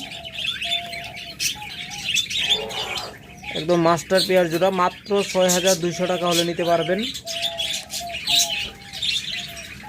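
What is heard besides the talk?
pet birds chirping in a cage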